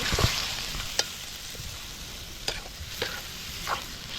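Squid (taoban) frying with garlic in a pan, with a continuous close hiss of sizzling oil and a few sharp clicks and scrapes from a utensil stirring.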